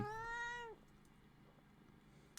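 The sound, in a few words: cat meowing, annoyed at not being fed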